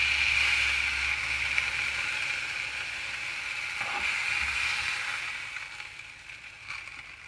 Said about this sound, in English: these have been cooking for about 4 minutes now